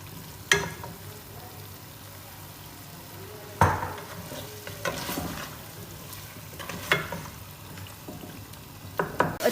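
Gosht (meat) for palak gosht sizzles and fries in a quarter cup of oil while being roasted and stirred, a steady crackle broken by sharp scraping clacks of a spoon against the pot.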